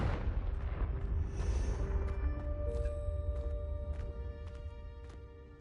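A Confringo fire spell bursts in Hogwarts Legacy, a deep rumbling boom that rolls and fades over several seconds, with bright ringing magical chimes and sparkles layered on top.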